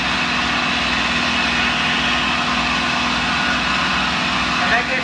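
A P-51 Mustang engine in flight at reduced power, about 36 inches manifold pressure and 2400 RPM, drones as a steady, loud, broadband roar with a constant hum that runs throughout.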